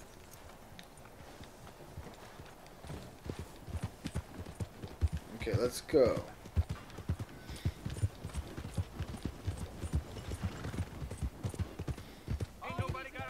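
Horse hooves in Red Dead Redemption 2 clip-clop at a steady walking pace, with a brief whinny partway through and someone speaking briefly.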